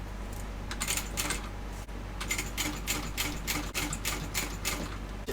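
A sewing machine top stitches a thick vinyl handbag, running in rhythmic bursts of rapid stitching broken by short pauses over a steady motor hum at close range.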